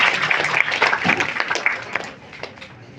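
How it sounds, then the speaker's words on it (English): A college audience at an engineering hackathon event applauds a speaker, scattered clapping with some distinct claps standing out, loudest early and tapering off, with a voice heard over it. "Give a big round of applause for Mr."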